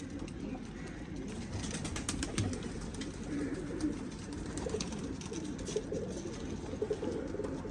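A young Teddy breed pigeon coos softly in a quiet loft, low murmuring calls repeating over faint mechanical clicking and rustle, with no talking.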